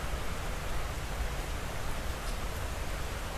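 Steady, dense rain pours during an unseasonal mountain storm, a continuous broadband hiss with no pauses and no voices, heavy and close throughout.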